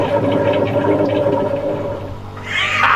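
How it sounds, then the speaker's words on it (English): A Chauvet DJ Cumulus low-lying fog machine warming up gurgles and bubbles steadily and close, then finishes with a brief rising hiss of release, with no one talking. "I have no idea what that was. Is gurgling. It is gurgling."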